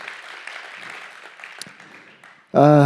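Steady church congregation clapping rolls on at moderate volume, then a loud voice abruptly takes over at the end.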